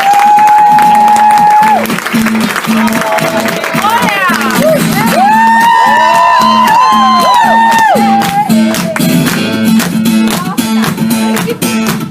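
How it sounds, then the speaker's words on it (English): Studio audience applause and cheering during a live performance in a radio studio, steady crowd noise blended with ongoing music and sustained vocal tones for the whole stretch. "a round of applause, please"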